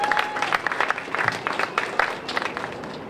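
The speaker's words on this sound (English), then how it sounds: "Everybody, can I get a round of applause for the volunteers who are here helping us today?" A crowd at an outdoor community accessibility festival applauds volunteers, a lively spread of uneven claps and a few cheers lasting throughout, fairly close and moderately loud.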